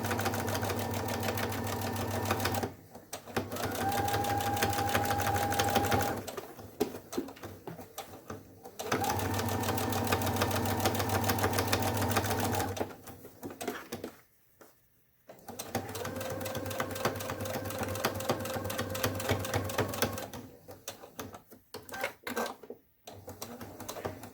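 A sewing machine top stitching a fabric face mask runs in long steady whirring bursts with brief pauses between runs, close and loud, its pitch shifting slightly as the speed changes.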